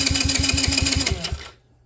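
A long-idle engine, sat for 17,379 hours, cranks over with the kill switch on: a steady, rapid rhythmic churning of the starter, loud and close, which winds down and stops after about a second and a half.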